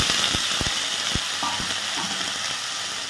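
Steady sizzling of diced potatoes frying in hot oil with chillies, with a few sharp scraping clicks from a utensil early on.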